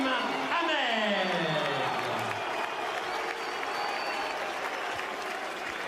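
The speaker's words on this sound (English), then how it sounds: "Subdued applause, it has to be said, and maybe even grudging applause from the more partisan of the Robinson followers." Subdued arena applause with some crowd noise rises after a WBO featherweight world title boxing fight is stopped. A commentator's voice carries over the steady clapping at the start.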